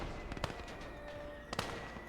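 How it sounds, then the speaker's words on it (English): Mortar shells firing in a Finnish-front war video game, two sharp blasts about a second apart rising briefly over a steady bed of battle noise and a thin tonal hum. "This mortar is kind of just letting it do its thing"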